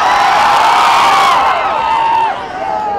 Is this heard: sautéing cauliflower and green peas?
no